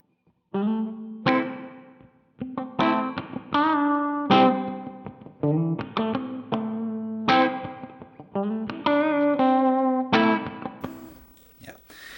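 An electric guitar plays through a Donner Verb Square reverb pedal, with separate picked notes and chords in short phrases, each ringing out into a soft reverb tail. The sound is loud and close, with no voices.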